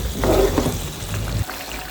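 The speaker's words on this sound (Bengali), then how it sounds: "মশলাটা নেড়ে চেড়ে একদম জলের সাথে মিশিয়ে দিচ্ছি" Mustard hilsa curry spices stirred into water in a pan, a soft steady bubbling simmer with faint scraping, close and quiet.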